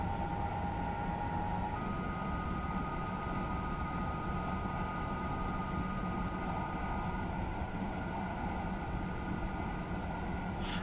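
A train rolls along in a railway simulator game, a steady mechanical rumble with a faint sustained tonal hum running throughout, even and unbroken, with no voices.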